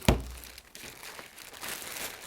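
Cardboard box packaging is handled up close: a sharp initial knock, then soft crinkling and scraping rustles of card being moved and opened, quiet and without talk.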